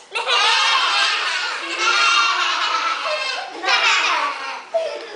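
Children's voices imitate a goat in a loud group chorus of bleating cries, with several swells and a short burst near the end.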